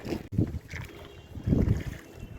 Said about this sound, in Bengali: এই কান্ট্রি বোট কান্ট্রি বোটে করে আমরা সবুজ দ্বীপের উদ্দেশ্যে যাচ্ছি